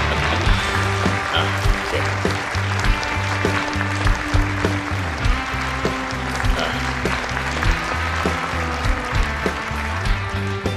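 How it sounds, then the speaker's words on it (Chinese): Applause fills a company's 20th anniversary appreciation banquet, steady clapping from a large crowd mixed with loud background music throughout. "让我们用热烈的掌声"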